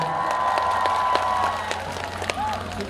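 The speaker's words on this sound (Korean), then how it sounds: "우리 꼬마한테 박수 한번 부탁드립니다." Audience applause at a cheese festival's opening celebration concert, following a child's appearance on stage. Steady clapping and crowd noise carry through the whole span, with the sound thinning slightly toward the end.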